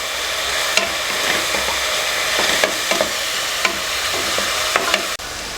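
Ginger-garlic paste sautéing in a pan for a Chettinad egg drop curry gives a steady, close sizzle, broken by a few sharp clicks and scrapes of stirring, ending in a brief drop to quiet.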